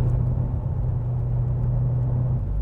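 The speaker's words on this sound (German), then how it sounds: "So ein Corvette-Sound in so einem kleinen Coupé." A Subaru BRZ coupe with a swapped 6.2-litre LS3 V8, idling with a deep, steady low rumble at close range and no talking.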